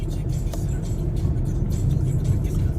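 Hyundai i20 Sportz petrol hatchback cruising on a highway, heard as a steady, loud cabin drone of engine and road noise with no clear change in pace.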